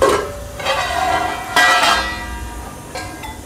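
A metal lid lifted off a cooking pot of sabudana khichdi, with close, bright metallic clinks and scrapes, one sharper clank midway and fainter rattles trailing off, with no voices.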